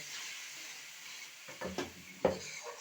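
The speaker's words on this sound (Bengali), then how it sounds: "আর একটু ধনে গুঁড়ো আবার একটু জল দিয়ে সামান্য জল দিয়ে কষিয়ে নেব" A spoon stirs spices, coriander powder and a splash of water in a pan for a live lata fish curry. It starts as soft sizzling, then gives a few distinct scraping stirs near the end.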